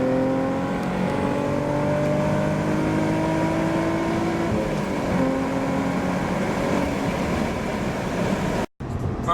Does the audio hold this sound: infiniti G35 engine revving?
yes